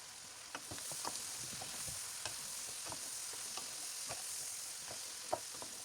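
Bell peppers sizzle steadily in a hot pan, with scattered clicks and scrapes of a utensil stirring them, no talking.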